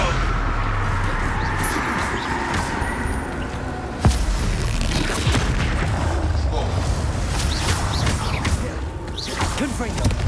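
Confringo blasting-spell explosions in Hogwarts Legacy crash through dense, continuous combat noise, with one sharp blast standing out midway and a voice calling out over the din.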